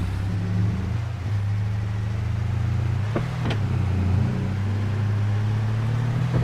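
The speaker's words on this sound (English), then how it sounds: "that noise I'm hearing is him shifting" A truck engine drones steadily in Farming Simulator 22, its pitch dipping and climbing again around the middle as gears change, with a couple of faint clicks over the constant hum.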